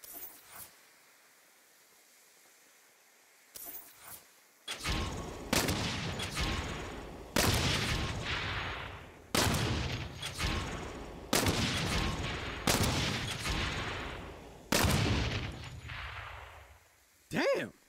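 Gunshots fired while aiming in Saints Row, about nine loud, sharp reports spaced a second or two apart, each ringing off with a long echoing tail after a quiet opening.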